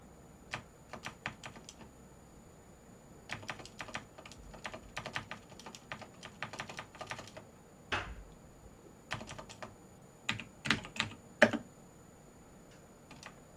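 Close-up typing on a computer keyboard with an oddly behaving feel, producing irregular quick clusters of crisp key clicks with short pauses between bursts and no talking.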